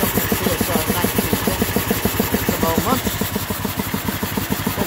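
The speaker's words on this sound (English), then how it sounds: "go and fire the compressor up" An air compressor runs close by with a steady, rapid mechanical pulsing, a loud continuous chugging rhythm that holds throughout with no breaks.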